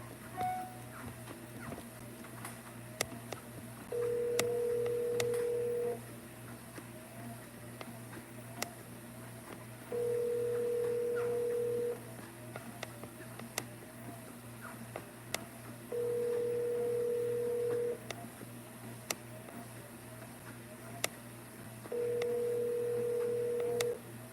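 An outgoing telephone call ringing through on a line, four evenly spaced ringback tones about six seconds apart, each lasting roughly two seconds, over a low steady hum and faint background clicks, with no one speaking.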